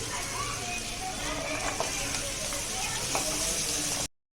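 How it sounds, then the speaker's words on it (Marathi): Cluster beans stir-frying in a pan give off a steady, dense sizzle with occasional soft pops and the clatter of stirring, ending abruptly. "परतून घेऊया"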